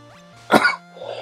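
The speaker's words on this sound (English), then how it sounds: "I don't mean to cough." A person coughs once, a short sharp burst near the mic, over soft chiptune Pokémon Red game music, followed by a faint trailing throat sound.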